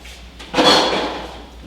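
A door swings open in an audio drama, a single soft creak and rustle rising over faint room hiss, heard alone with no talk.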